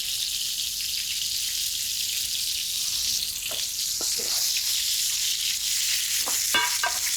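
Endives caramelizing in a hot frying pan, giving a steady close sizzle with a few scraping clinks of utensils toward the end, no speech.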